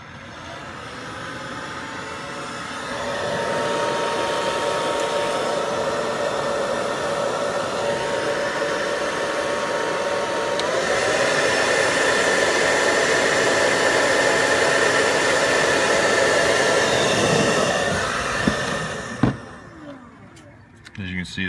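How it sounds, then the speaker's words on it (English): A hair dryer is used as a heat gun to shrink heat-shrink tubing on wiring connectors. It blows a loud, steady, close whooshing roar, rises a little in intensity midway, then cuts off near the end. "we're going to go ahead and try to do this with a hair dryer."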